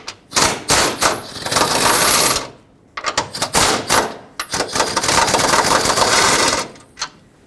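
A 13mm socket on a ratchet backs out bolts during fan clutch removal on a 2008-2010 Ford F-250 with the 6.4L diesel, heard as two long runs of rapid, loud clicking with short pauses between them.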